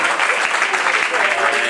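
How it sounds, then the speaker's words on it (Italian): Audience applause for a jury member at a comedy evening in Camerota, steady dense clapping filling the short stretch at an even level. "facciamogli un applauso"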